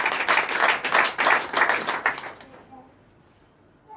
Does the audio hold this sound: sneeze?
no